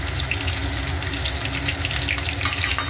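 Onions frying in oil for a Bengali cabbage and catla fish head dish, giving a steady, close, even sizzle and hiss with a faint water-like wash throughout, no voices.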